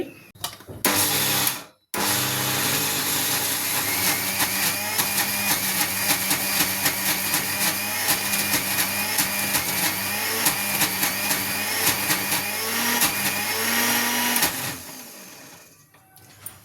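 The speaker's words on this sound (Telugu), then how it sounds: "ఇప్పుడు మిక్సీ పట్టుకొని మనం ఇడ్లీ పిండి ఎలా పట్టుకుంటాం దానికన్నా కొంచెం గట్టిగా పట్టుకోవాలి పిండి" A mixer grinder loudly whirs through thick urad dal batter for sun-dried lentil fritters, with a brief start and a short stop before a long steady grind that cuts off near the end.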